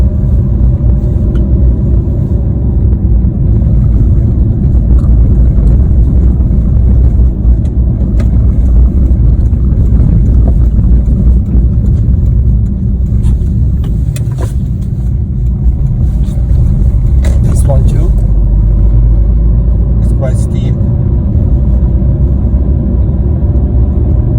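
A 2009 Fiat Panda 1.1 climbs a steep hill in second gear, its engine holding a steady, loud, low rumbling drone close by throughout, with light road and cabin noise and no talking.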